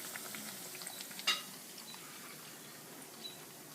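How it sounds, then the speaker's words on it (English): Black beans frying in oil in a pan while being turned over for Cuban-style frijoles negros, a faint steady sizzle with one sharp scrape or clink, quiet and close. "We want to keep on moving them and turning them over."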